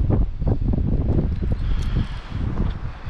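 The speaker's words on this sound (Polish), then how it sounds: "Dzisiaj mamy potworny wiatr." Strong wind gusts buffet the microphone on open water, where a boat is being fitted with a MotorGuide Xi3 bow trolling motor, making a loud, continuous roaring rumble that swells and eases without pause.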